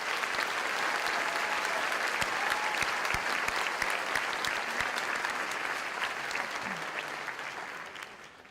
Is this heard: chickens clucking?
no